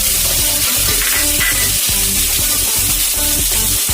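Chopped onion tumbling into hot oil with frying garlic and green chillies, giving a steady, loud sizzle with crackling bursts and faint stirring, no voices.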